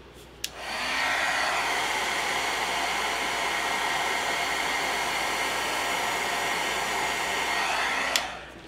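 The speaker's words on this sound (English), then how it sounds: "I think I'm going to hit that with my heat tool." A heat tool drying a watercolored slimline holiday card switches on with a click, blows as a steady, loud, close whooshing hiss for about eight seconds, then clicks off.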